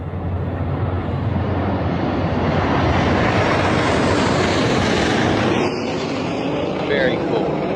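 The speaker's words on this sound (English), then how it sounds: "Gorgeous flyover with the American flag colors." A 4th of July aircraft flyover in New York roars loudly overhead as a broad, steady jet rumble that swells and then slowly fades.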